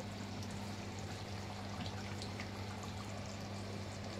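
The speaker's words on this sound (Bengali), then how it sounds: "এবার গোলাপ জল দিয়ে দিলাম।" Rose water poured over layered chicken biryani, a steady soft liquid trickle under a constant low hum, fairly quiet and continuous with no talk.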